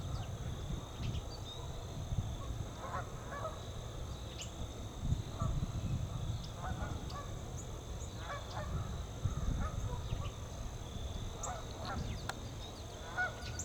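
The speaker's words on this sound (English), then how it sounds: "Oh, again, the geese are loving it." A gaggle of geese honks repeatedly out on a lake, scattered calls rising over steady low rumble and wind noise, moderately distant, with no one talking.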